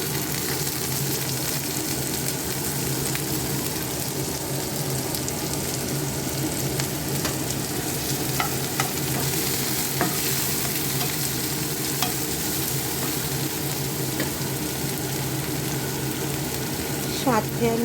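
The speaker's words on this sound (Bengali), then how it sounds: "এখন আমি পেঁয়াজ কুচি দিচ্ছি" Chopped onion going into hot oil with dried red chili for dal fry, a dense continuous sizzle with light stirring clicks throughout, close and steady, without talking.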